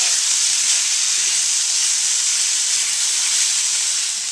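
Ground meat seasoned with salt and pepper browns in a pan, giving a loud, steady sizzle that holds level without a break.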